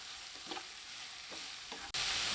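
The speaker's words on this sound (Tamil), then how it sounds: "காய் நல்லா வதங்கி வந்துருச்சுங்க." Vegetables for fried rice are stir-fried in a pan, with a steady sizzle and occasional scraping stirs, close and fairly quiet, ending in a sudden louder burst of frying.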